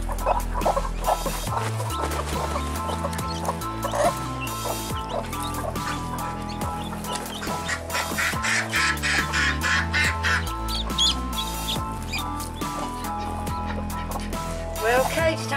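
Several baby chicks peep in quick, high, repeated chirps, close by, over steady background music with a thumping bass line and no clear talk.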